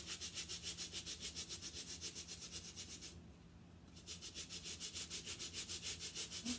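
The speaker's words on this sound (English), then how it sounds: "So I'm going to do a soft scrub. Just a little light soft scrub." A light, soft brush scrub cleans a shoe in steady back-and-forth strokes, close and even, with a brief pause midway before the rhythmic scrubbing resumes.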